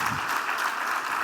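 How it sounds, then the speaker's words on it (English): A brief burst of audience applause at an awards celebration marking the Imbuto Foundation's 20th anniversary, thick and steady clapping from a large crowd throughout. "Let's give them a round of applause."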